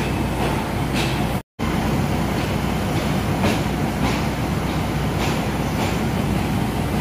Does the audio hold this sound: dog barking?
no